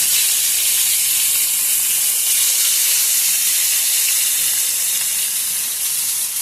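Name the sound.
rohu fish frying in hot oil in a kadai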